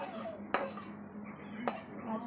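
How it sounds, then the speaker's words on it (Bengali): Tilapia fish tipped from a container into a cooking pan, giving two sharp metallic clanks of pot and utensil over a low steady background, with no one speaking. "মাছটা ঢেলে নিলাম।"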